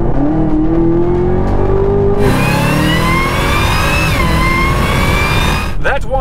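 A supercharged 6.2-liter V8 in a 2021 Chevrolet Camaro ZL1 revs loudly, its pitch climbing and holding high, ending in a sharp rasp as the throttle drops.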